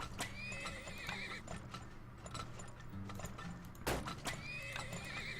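Horses whinny and clip-clop steadily in the Turmoil video game, neighs rising clearly over a continuous bed of hooves, creaking mechanisms and ambient game sound, with no talk.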